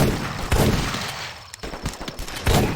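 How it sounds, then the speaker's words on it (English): A sawed-off shotgun in a first-person shooter fires a few loud, heavy blasts amid a dense wash of surrounding gunfire and game noise, with no voices. "Sawed-off shotgun is excellent"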